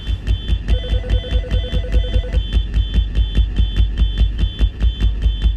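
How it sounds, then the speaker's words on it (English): A fire alarm or smoke detector goes off with a fast, loud, steady train of piercing electronic beeps that repeats evenly throughout, and no one speaks. "A lot of those fire alarms go off when there's too much dust collected in the sensor and things like that."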